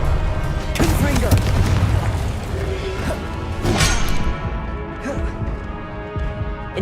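A Confringo fire spell blasts in the wizarding game Hogwarts Legacy, giving heavy booming impacts with whooshing crashes and rumbling that overlap steadily across several seconds, while a voice calls out over the action.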